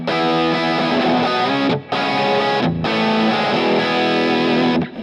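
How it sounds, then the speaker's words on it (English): Distorted electric guitar on a Kemper plexi amp tone run through a small 8-inch speaker, sounding boxy and narrow; sustained chords ring out in three loud phrases separated by two brief gaps, with no voices. "It's going to sound like we put a plexi through an 8-inch speaker."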